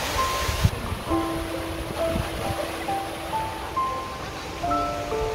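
A log waterfall at Bear Tree Park arboretum in Sejong, South Korea roars with a steady broadband rush of pouring water, with a few faint tonal whistles drifting above it.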